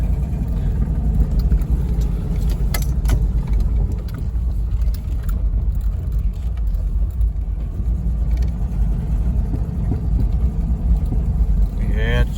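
The engine of an 80s Toyota Land Cruiser struggles under near-full throttle, a steady loud rumbling drone that carries on throughout with little change in pitch.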